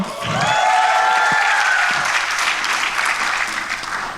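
An audience at a conference keynote claps in a full burst of applause that starts strong and gradually thins out, with no one speaking over it.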